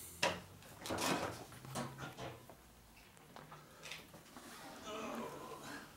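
The bottom drawer of a lathe in a workshop slides open and shut with soft wooden knocks and scrapes. The sounds are faint and come with other quiet shop clatter.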